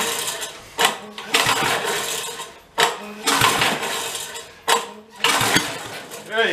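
Old Batmobile engine, left forty years under a tree, being pull-started at full throttle: several loud bursts of sputtering engine noise, each cutting out after a second or two, with short pauses and clatter between attempts.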